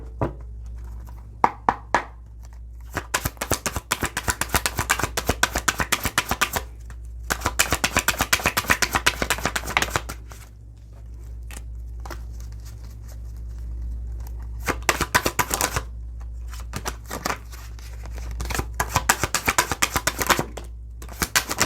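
A deck of cards is shuffled and riffled in several bursts of rapid crisp flutters, each lasting a few seconds. Quieter gaps fall between the bursts over a low steady hum, and no voices are heard.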